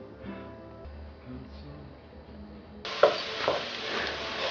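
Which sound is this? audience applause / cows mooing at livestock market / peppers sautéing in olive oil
peppers sautéing in olive oil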